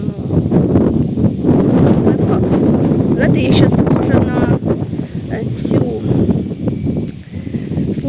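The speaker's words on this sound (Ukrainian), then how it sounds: "Вітер такий шалений" Loud, steady wind from a violent windstorm buffets the microphone in continuous gusts, roaring over the whole clip with scattered rustling, outdoors in a garden with greenhouses.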